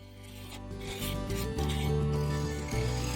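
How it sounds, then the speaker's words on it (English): A spindle gouge shapes an African blackwood knob on a lathe, with a continuous close scraping and rubbing hiss over the lathe's steady hum, varying slightly as the cut shifts. "I set to with a spindle gouge, fashioning the piece to shape."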